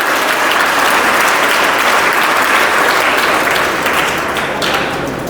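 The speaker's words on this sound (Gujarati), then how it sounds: "તાળી મારો જોરદાર યાર તમે આ લોકો માટે તો કરો." A school annual-function audience breaks into dense, loud, sustained applause that fills the hall and tapers slightly toward the end.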